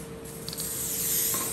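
A Dulux spray paint can, its side opened up with a hammer, sprays in a steady close hiss that builds slightly louder toward the end of a short burst.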